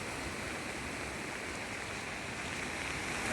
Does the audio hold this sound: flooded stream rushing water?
yes